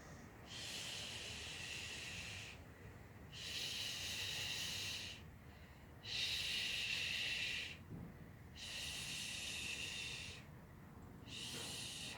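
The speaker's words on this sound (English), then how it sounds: "Breathing." Heavy, rhythmic breathing during a yoga exercise, five long hissing breaths in steady succession, each lasting about two seconds with short pauses between, close and loud with no talking.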